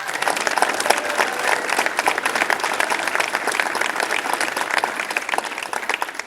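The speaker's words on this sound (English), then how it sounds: "Please give her a round of applause." Audience applause filling a live tech event hall, steady dense clapping from a crowd that holds for several seconds and tapers slightly at the end.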